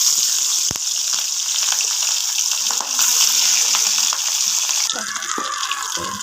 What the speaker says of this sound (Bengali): একটা একটা করে মাছগুলো সব ভেজে নেবো আস্তে আস্তে